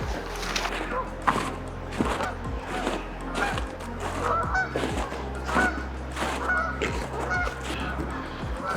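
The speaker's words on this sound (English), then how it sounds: "Bunch of geese coming in, just landing over here in this river." A flock of geese honking repeatedly as they land on a river, many overlapping calls in an irregular rhythm, fairly close and loud over steady low background noise.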